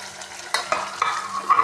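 Coconut and tomato paste for a green chicken gravy are stirred in a frying pan, with soft scrapes and a few sharp clicks of the utensil over a quiet sizzle.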